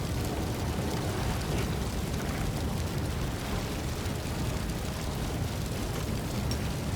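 An eruption spell explodes in Pathfinder: Wrath of the Righteous, a loud, steady roaring, crackling blast with no letup through the whole stretch and no voices.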